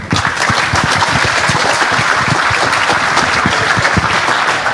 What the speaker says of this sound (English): so don't clap your hands